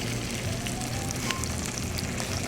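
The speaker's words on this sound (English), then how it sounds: "You hear that sizzle?" Continuous crackling sizzle of salmon skin frying in a hot pan, steady and close with faint popping throughout.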